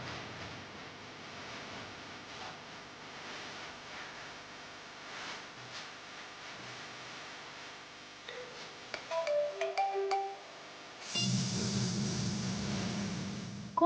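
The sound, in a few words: phone ringing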